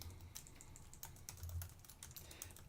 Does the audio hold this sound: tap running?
no